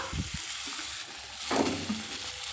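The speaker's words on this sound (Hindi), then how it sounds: "मावा को भी हल्का सा भून लेते हैं।" Khoya (mawa) frying in a spoonful of hot ghee in a kadhai, a steady close sizzle with brief stirring scrapes and a louder burst of crackle midway, no talking.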